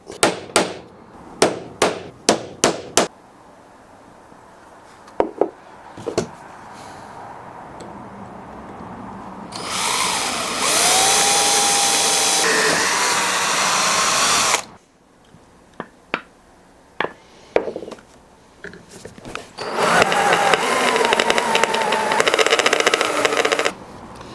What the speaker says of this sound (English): I'll drill another hole in this top corner just to be safe